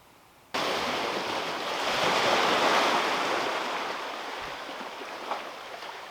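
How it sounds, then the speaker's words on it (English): Ocean surf surges inside a small sea cave in Hawaii, a broad rushing wash that swells and slowly ebbs, loud and enveloping after a sudden start. "What a cool little sea cave."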